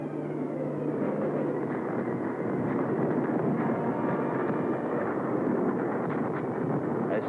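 Stuka dive bombers strafing over Poland in 1939 World War II archive footage, a dense, sustained aircraft roar that holds steady and loud throughout with no voices.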